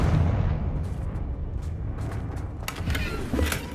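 A Confringo blasting spell explodes in Hogwarts Legacy with a deep, rumbling boom that rolls on and fades. Brief crackling bursts follow near the end.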